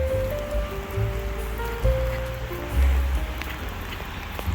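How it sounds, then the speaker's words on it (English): Heavy rain pours down outdoors near a parked car, a steady dense hiss of drops with low rumbling underneath, continuous and fairly loud throughout with no voices. "It is pouring down rain."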